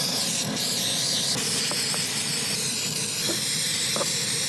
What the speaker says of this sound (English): And then you generously spray it into the grill.